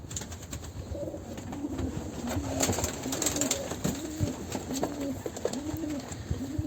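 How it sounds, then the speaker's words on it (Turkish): Pigeons cooing indoors in a loft, a steady series of soft, repeated rolling coos close by, with faint rustling and a low background hum; no talking. "çekiliş kuşlarımız geldi"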